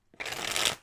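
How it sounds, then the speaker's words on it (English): A tarot card deck being shuffled at close range, one quick riffle of cards flicking together for under a second with no talking. "I'm going to shuffle the deck"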